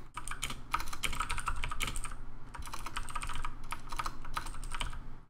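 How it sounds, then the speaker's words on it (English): Code typed on a computer keyboard in quick, steady bursts of close key clicks, with a brief pause partway through and no talk over it. "let me just type it so I don't screw it up."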